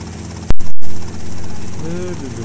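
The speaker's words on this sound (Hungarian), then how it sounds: "Ez az helikopter úgy néz ki, mint egy nagy légy." A helicopter in the video game GTA Vice City Stories makes a steady rotor and engine drone, with a short loud burst near the start and a voice talking over part of it.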